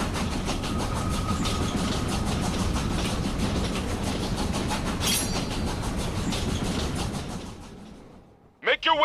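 A moving train in the video game Killer is Dead rumbles steadily with a rhythmic clickety-clack of wheels and a low engine drone, loud and continuous before cutting off near the end, where a brief burst of talk appears.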